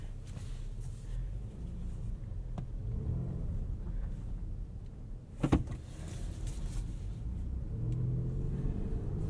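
A 2018 Buick Regal Sportback GS on the move, heard from inside the cabin: a steady low engine and road rumble with a brief click or knock midway, no talking.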